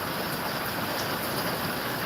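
Steady rain falls continuously on outdoor surfaces and stones during a first rain in Gboko, a dense even hiss with no talk.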